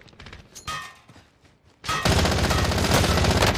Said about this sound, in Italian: Ci sparano da dietro